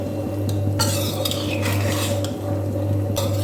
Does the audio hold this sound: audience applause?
no